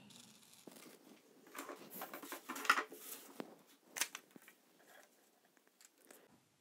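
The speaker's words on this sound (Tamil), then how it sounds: "இது இப்போ கட் பண்ணி எடுக்கலாம்." Quiet, irregular snips and crisp crunches of paper being cut out to make a pop-up leaf, close and sparse with short pauses between cuts.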